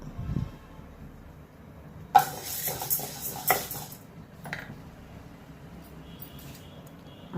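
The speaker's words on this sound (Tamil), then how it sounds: "கடாய் சூடானோன்னு ஒரு ஆழாக்கு துவரம் பருப்பு. ரொம்ப வறுக்கணும், லேசாக சூடு பண்ணால் போதும்." Toor dal roasting dry in a hot kadai, stirred with a metal spoon: scraping and clinking against the pan in a few loud bursts, with quieter rattling between, close and without any talk.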